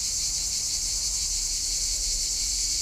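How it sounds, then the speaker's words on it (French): Cicadas by the sea fill the air with a dense, unbroken high buzzing chorus, steady and loud throughout, with no voices. "un petit coin tranquille avec son concert de cigales gratuit"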